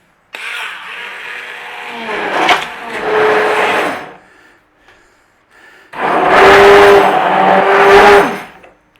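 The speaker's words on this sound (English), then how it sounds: "we're just going to take a stick blender" A stick blender whirs in two bursts through marinara sauce, a few seconds each, with a short quiet gap between; loud and close, its pitch shifting as it churns.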